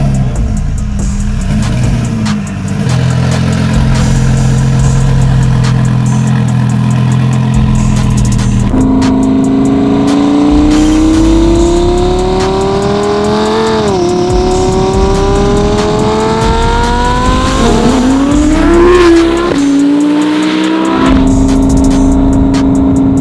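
A 2500HP twin-turbo Audi R8 V10 engine roars loudly and continuously, revving up through rising pitches as it accelerates through gears, heard from inside the car.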